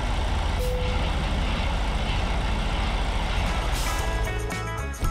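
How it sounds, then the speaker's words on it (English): Semi truck idling loudly in American Truck Simulator while a trailer is unhooked, a dense rumbling engine drone with a faint tone early on, then a burst of hissing air and mechanical clanks near the end. "Let's go outside and unhook the trailer."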